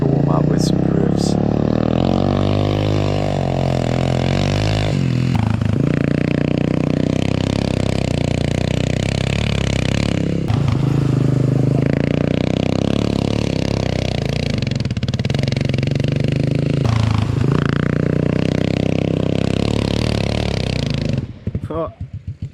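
A custom 600cc go-kart engine drifting, loud and close with strong harmonic engine tones that rise and fall as it revs through slides for about twenty seconds, with speech-like sounds mixed in.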